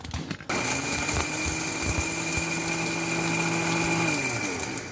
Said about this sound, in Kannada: ಈ ಒಗ್ಗರಣೆ ಹುಟ್ಟೋದ್ರೊಳಗೆ ಮಸಾಲೆ ಮಿಕ್ಸಿಯಲ್ಲಿ ಪುಡಿ ಮಾಡ್ಕೊಂಬ